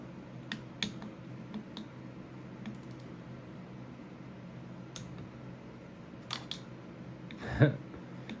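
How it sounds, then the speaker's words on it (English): A torque wrench tightens the clutch bolts to 89 inch-pounds on a Rekluse TorqDrive clutch in a 2022 Kawasaki KX250F. Sparse, sharp clicks sit over a low background hum, with one louder click near the end. "now we can go ahead and torque these our 89 inch-pounds"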